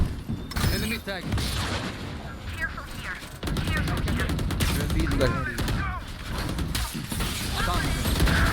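Valorant match with rapid bursts of in-game gunfire, sustained volleys and sharp shots running under excited talk throughout.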